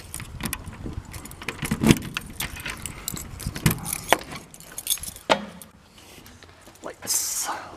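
A bunch of keys jangles and clinks in bursts over about eight seconds, fairly close, with a person speaking intermittently alongside inside a car shop.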